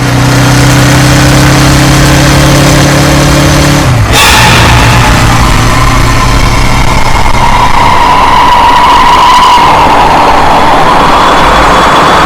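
A motorbike engine runs steadily while the bike is ridden in hot weather. A low, even hum fills the first few seconds, then a sharp burst gives way to rushing road and wind noise. No one speaks.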